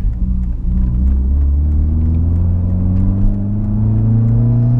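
A 1991 Mercedes 124 200CE drives through city streets, its engine a loud, close, steady rumble whose droning tones rise gradually as it accelerates, with no talk over it.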